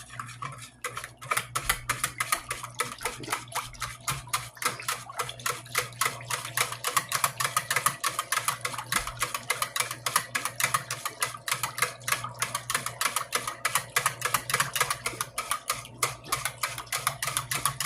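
Banana pudding mixture being whipped by hand in a bowl makes a fast, relentless ticking rattle of whisk against the dish, evenly paced and close up, with no talk over it.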